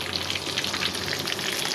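Hot oil sizzles steadily around eggplant slices frying in a pan as the oil is swirled, a dense crackling hiss close by with no talk over it.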